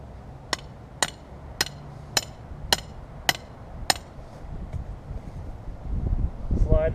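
Seven sharp, evenly spaced hammer blows drive a canopy stake into the ground at an angle while a 20 by 20 foot pole and stake canopy is set up outdoors. Wind and rustling follow, and a voice speaks briefly at the end.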